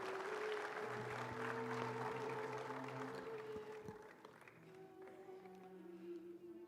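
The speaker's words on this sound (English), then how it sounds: "Give them a big round of applause, please," Applause from mourners at a provincial official funeral for a former Bafana Bafana football coach, a broad sustained wash of clapping that tapers slightly midway, with steady tonal notes running beneath it.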